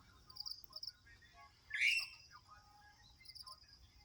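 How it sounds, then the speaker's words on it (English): Faint birds chirp and tweet outdoors, with one brief louder call near the middle over a steady low background hum. "Beautiful sounds of the rooster chickens and the birds chirping away."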